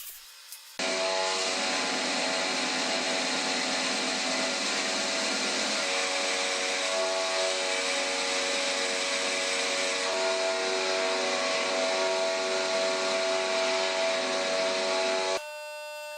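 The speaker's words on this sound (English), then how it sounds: "These super thin cut-off discs are really cool and I like to squeeze every little bit of life out of those." A super thin cut-off disc on an angle grinder grinding welds on a long steel F clamp, a loud steady high-pitched whine with a harsh grinding hiss, starting and stopping abruptly.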